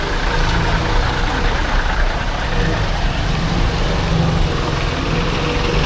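Heavy road traffic with trucks and buses on the Mumbai–Vadodara highway during a solo motorcycle ride, a loud steady rumble of engines and wind with no speech.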